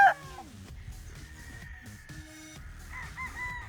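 Straight breed stag roosters at a farm booth give short clucks and calls near and far, with a faint hum under the scattered bird sounds.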